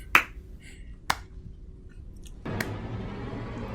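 A villain's slow clap rings out as three sharp, close claps spaced about a second or more apart, with no voices over them, followed by a low steady hiss.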